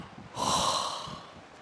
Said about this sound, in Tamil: ஒரு கொட்டாவி